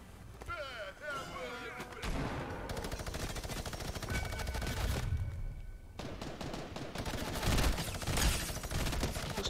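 Rapid gunfire erupts in Fortnite: bursts of shots and heavy blasts that stack into a near-continuous barrage for several seconds. A player's voice talks intermittently over the shooting.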